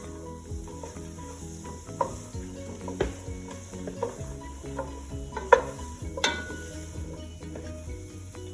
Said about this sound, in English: Now I'm stirring these good veggies in here